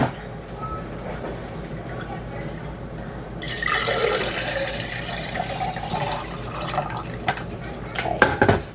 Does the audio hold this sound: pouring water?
yes